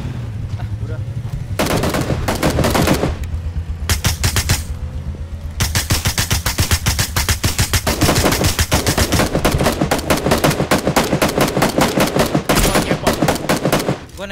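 Rapid bursts of automatic gunfire and single shots in a shooting video game, loud and near, rattling almost continuously with brief gaps, with players' voices faintly talking underneath.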